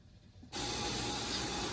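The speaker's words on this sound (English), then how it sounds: "I'm just gonna spray oil to the pan." Cooking oil sprayed onto a hot pan while making sapin-sapin: a sudden loud, bright hiss starts after a quiet moment and holds steady and close until the end.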